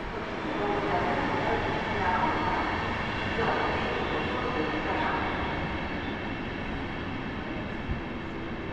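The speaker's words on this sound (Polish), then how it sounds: "Przed nami skład RegioJet z Krakowa do Gdyni, Vectron" A RegioJet passenger train running from Kraków to Gdynia behind a Vectron locomotive, heard from a platform at Warszawa Zachodnia in winter as a steady broadband rumble and rolling roar that holds level throughout.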